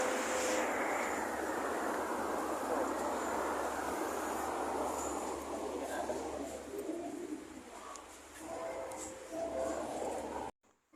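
An MRT Jakarta train runs from Fatmawati toward Lebak Bulus station with a loud, broad rushing roar that slowly fades, then low rumbling with a few faint tones before a sudden cut.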